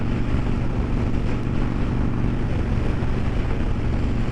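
A 2003 Kawasaki Vulcan 1500 Classic motorcycle with a 5-speed gearbox being ridden, a steady loud low engine drone with wind rush, continuous and close with no talking.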